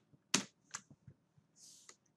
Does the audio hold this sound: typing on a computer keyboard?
yes